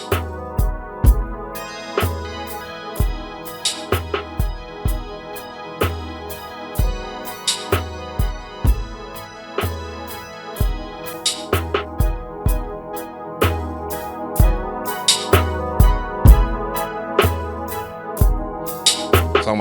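An R&B-style beat built on a Roland J-6 synthesizer with an MPC sample plays loud and steady, with punchy, evenly spaced drum hits under sustained chords.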